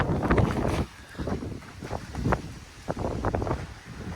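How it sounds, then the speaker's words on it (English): Gusts of wind buffet a tent at an outdoor truck engine rebuild, coming as loud rustling, flapping surges that rise and drop in uneven bursts close to the microphone. "this damn tent's trying to blow away with this wind today"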